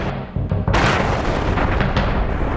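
Heavy explosions in Mosul, Iraq, during fighting: a quieter rumble breaks into a loud deep boom, then a sustained roar of blasts and debris continues with further thuds, no talking.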